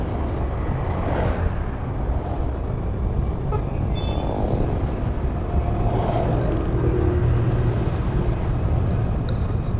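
Steady road traffic from cars and buses passing on a highway, heard as a continuous broadband roar with a brief horn toot, sustained and fairly loud throughout with no talking.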